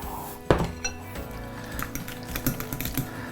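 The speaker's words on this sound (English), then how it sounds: "And then you just mix it." Deviled egg filling is mixed in a bowl, with scattered clinks and taps of a utensil against the dish, one sharper knock near the start and lighter irregular scraping and clicking after, close and fairly quiet.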